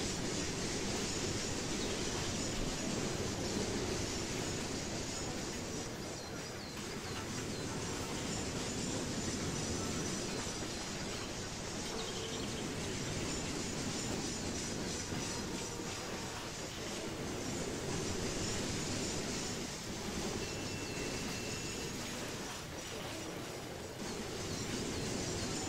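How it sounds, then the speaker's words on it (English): A freight train thunders steadily past a small settlement in the Trainz 2019 railway simulator, a loud, continuous rumble of wheels and cars that holds close and dense from start to finish, with light clatter on top. "our train comes screaming through the little settlement"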